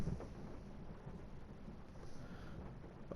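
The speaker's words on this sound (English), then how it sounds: "I think that was thunder in the game" Thunder from the video game Chicken Police rolls as a low, steady, broadband rumble, heard alone with no voices.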